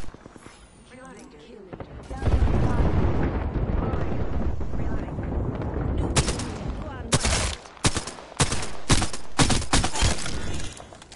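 Rapid bursts of automatic gunfire and heavy shots crackle loudly through a shooter video game firefight, with someone talking over the action in places and the shooting coming in dense volleys separated by short gaps.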